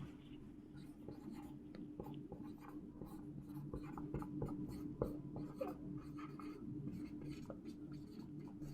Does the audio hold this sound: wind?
no